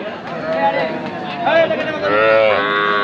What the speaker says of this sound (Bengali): দুইটাই কিন্তু বকনা বাছুর।